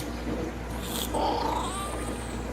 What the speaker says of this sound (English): That's the unmistakable sounds of my favorite internet cat ever, Lil Bub.